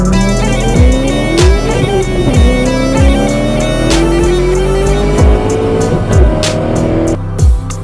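A new Audi car, heard as loud engine revving and gear shifts with rising and falling pitch sweeps, punctuated by sharp clicks and knocks throughout.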